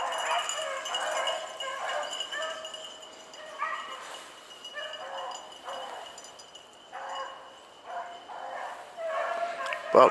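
Hunting dogs bark and yip in repeated bursts while running a track, somewhat distant, with quieter gaps between volleys in an open outdoor setting.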